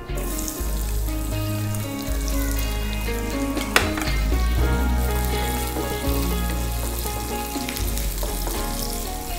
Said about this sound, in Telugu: ఉల్లిపాయలు వేస్తున్నానండి